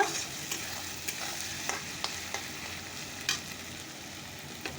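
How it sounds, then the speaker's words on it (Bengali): Onion and garlic fry in a pan with a soft, continuous sizzle, broken by faint scraping clicks as the pieces are stirred now and then. "বসিয়ে দিয়ে পেঁয়াজ আর রসুনটা দিয়ে দিয়েছি সেটা ভাজা ভাজা করে নিয়ে"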